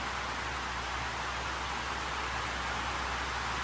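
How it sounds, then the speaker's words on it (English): Heavy rain pours down steadily on a farm, a dense, continuous hiss with no gaps or voices, loud and close throughout. "the rain decided to get real about it"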